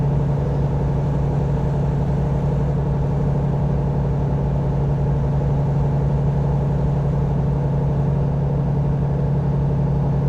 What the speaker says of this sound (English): already I'm starting to get used to the sound of the engine being more, having a deep throat sound to it